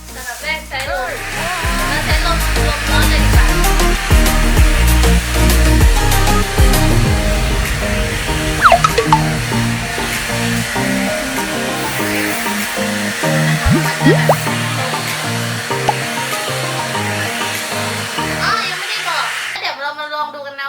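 A negative-ion hair dryer comb straightens hair with a loud, continuous motor whir and airflow hiss; someone talks over it throughout.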